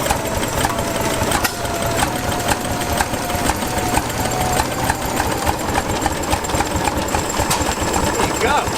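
An old Bessemer engine running at the Tuckahoe steam show in Easton, Maryland, a loud steady knocking chug with rapid even beats and mechanical clatter throughout, voices talking nearby.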